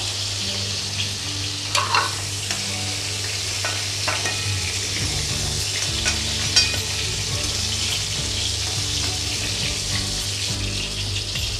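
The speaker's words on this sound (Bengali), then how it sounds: "এবার আমি ওই তেলের মধ্যেই আমগুলো ভেজে নেব।" Mango pieces frying in oil in a pan, a loud continuous sizzle with steady crackling and occasional stirring scrapes throughout, no voices.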